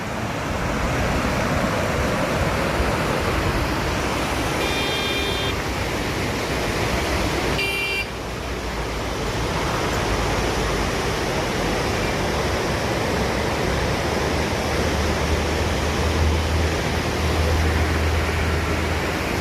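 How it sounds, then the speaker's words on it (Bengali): The Sindhu river flows at Sonmarg in a constant broad rush of clear water, loud and close, with steady noise that barely changes from start to finish. "এটা সিন্ধু নদী।"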